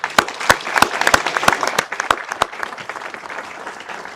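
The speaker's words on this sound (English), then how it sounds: "we should applaud our graduates again" A graduation audience applauds the graduates of the 2026 class, with dense crowd clapping and sharp individual claps standing out close by, steady for several seconds before thinning slightly.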